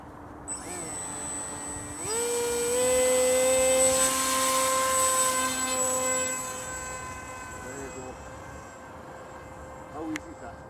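RC model airplane engine flying overhead at an outdoor club field, a buzzing high-pitched whine that rises in pitch, peaks loud as the plane passes close, then fades into the distance, with voices briefly audible.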